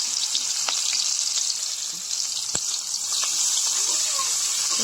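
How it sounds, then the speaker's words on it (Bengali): Chopped onions fry in a pan in a home kitchen with a steady, bright sizzle, with occasional light clicks of stirring throughout. "পেঁয়াজগুলো আমরা লাল লাল করে ভেজে নেবো।"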